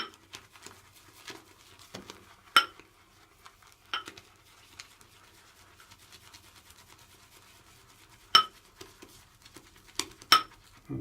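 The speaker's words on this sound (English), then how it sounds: "Sorry about the clinking." Small, sharp clinks as shaving brush tips are dipped into a container during a wet shave, a handful of scattered glassy ticks over quiet background, with the loudest pair near the end.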